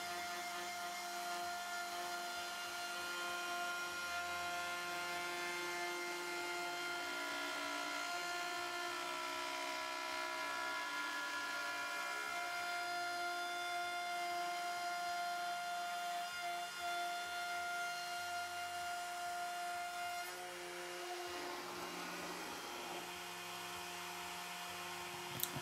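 CNC router spindle cutting a roundover profile in wood, a steady loud high-pitched whine with stable tonal harmonics running continuously, then shifting in character near the end as the cut finishes.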